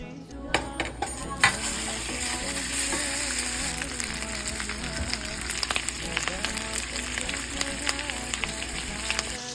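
Onion frying in a pan with whole cumin, cardamom, cinnamon, black cardamom and bay leaf for lamb korma, a steady close sizzle with scattered clinks and scrapes of utensils throughout.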